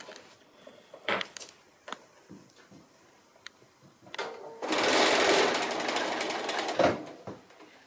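A sewing machine runs a short burst of stitching on a Christmas stocking, a steady, rapid mechanical whirr of a few seconds that follows quieter handling clicks and rustles.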